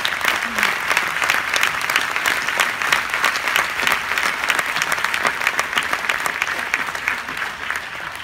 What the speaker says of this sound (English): Please join me in giving them a huge round of applause.